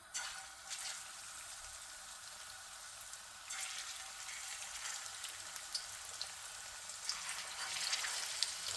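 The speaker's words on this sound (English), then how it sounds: "இப்போ நாங்கள் வந்து மீனை பொரிப்போம்" Fish frying in oil in a pan at medium flame, a steady close hiss and crackle of sizzling with scattered pops, rising slightly toward the end, no voices.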